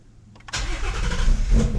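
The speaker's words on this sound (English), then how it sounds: "fired up pretty normal for an E85 start" A Ford Mustang GT350 running on E85 cranks briefly and fires at about half a second, then settles into a loud, steady, rumbling idle close by.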